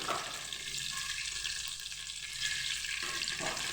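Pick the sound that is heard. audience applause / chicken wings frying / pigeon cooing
chicken wings frying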